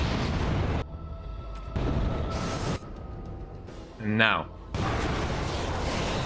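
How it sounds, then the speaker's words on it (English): A loud explosion bursts from Dragon Age: Origins gameplay, a broadband boom with a rumbling tail, preceded and followed by dense game noise, with someone speaking briefly over it. "Okay, explosion noise."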